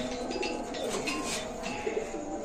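Pigeons coo steadily at a busy pigeon market, a dense layer of overlapping low calls under general crowd noise.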